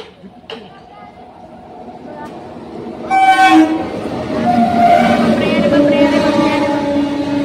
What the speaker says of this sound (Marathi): आम्हाला वाटलं होतं रेल्वे येईल, तर रेल्वे नाही, मालगाडी आहे।